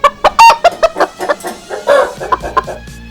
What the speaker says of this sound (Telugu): సోము చెప్పింది నిజమే, కోడి బాగా పెరుగుతుంది